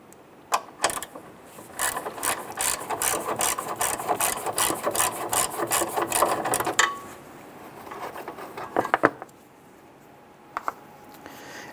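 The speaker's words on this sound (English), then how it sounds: "Using an 8mm socket, go ahead and loosen and remove the bolt here." Rapid clicking of a ratchet with an 8mm socket loosening a bolt on a 1994-2004 Ford Mustang, a close, steady run of clicks for several seconds followed by a few sharper metallic knocks.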